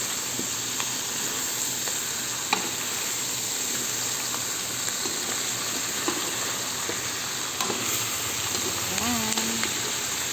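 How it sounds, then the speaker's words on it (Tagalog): Spicy pork sizzling in a pan while being stirred, a steady loud frying hiss with occasional scrapes and clicks of the utensil, a voice briefly heard near the end. "Kailangan po lang haluin natin para hindi masunog yung ilalim"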